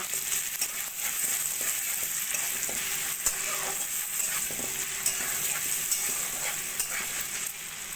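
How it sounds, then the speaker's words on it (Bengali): Pieces of amra (hog plum) frying in a pan with salt, turmeric, chili powder and Kashmiri chili powder, giving a continuous close sizzle broken by scraping stirring sounds, with no talking. "আমরাগুলোকে মশলার সঙ্গে ভালো করে ভাজা করে নিয়ে"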